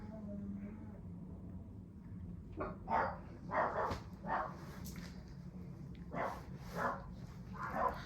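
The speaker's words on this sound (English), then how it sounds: "The dogs are barking" Several dogs bark in short bursts at someone coming through the door of a home, the yaps rising and falling over a steady low hum, with a voice talking at points.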